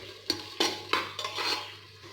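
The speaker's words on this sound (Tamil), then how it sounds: "சேர்த்துட்டு நல்லா வதக்கி விட்டுக்கலாம்." Green chillies and tomato being sautéed in a pan, with a few sharp clinks and scrapes of a stirring spoon against the metal over a faint background hum, no voices.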